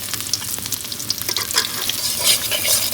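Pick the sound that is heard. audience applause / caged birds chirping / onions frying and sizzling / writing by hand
onions frying and sizzling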